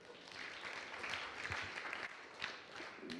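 A church congregation applauds at an Easter sermon, a steady wash of clapping from many hands at moderate distance, with a few sharper claps standing out over the continuous patter.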